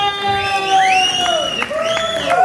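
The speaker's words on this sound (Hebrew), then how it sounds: "בהחלט כפיים" An audience at a children's show cheers and whoops, rising and falling voices sustained loudly for a couple of seconds as a crowd sound.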